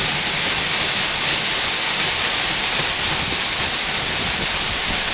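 The Eas Mor waterfall, in fast, heavy flow, roars in a loud, steady rushing hiss from right behind the falling water, with no let-up.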